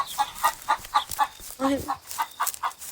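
A chicken in a horror game set in a butchery clucks in a rapid, steady series of short calls, fairly loud and close, with a brief spoken exclamation partway through.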